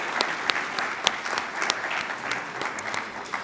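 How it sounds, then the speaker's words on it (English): A large conference audience at a healthcare event claps for the planning committee, dense continuous applause with scattered sharper claps standing out, fairly loud throughout. "Let's give them a big round of applause."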